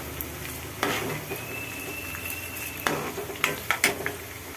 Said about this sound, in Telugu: ఎల్లుల్లిపాయలు కూడా వేసేసుకుందాం గోల్డెన్ కలర్లో వచ్చేలాగే వేయించుకుందాం